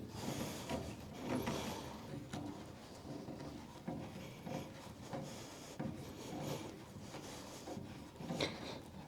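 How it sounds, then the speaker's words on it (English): A JPC-12 antenna is screwed onto its mount in a carport, giving faint, uneven scraping and rubbing of threads turning, in short repeated strokes. "we are ready to screw an antenna to the top of this"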